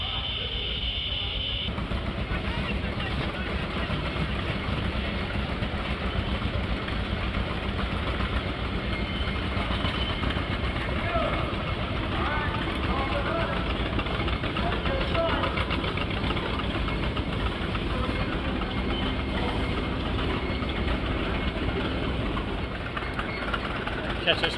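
Old Case tractor, one built in 1911, idling at a tractor show in Pinckneyville, Illinois, a steady low engine chug running continuously with crowd noise and voices in the background.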